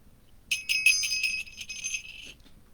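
A small golden bell rings bright and close, with a quick run of jingling strikes that rings on for about two seconds and then fades, in a quiet room.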